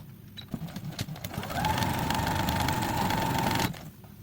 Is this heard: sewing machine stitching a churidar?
yes